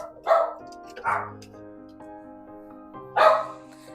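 Dogs barking indoors in a kitchen, three separate loud barks with short whines and tonal yips between them, spaced irregularly over a few seconds, heard without talk.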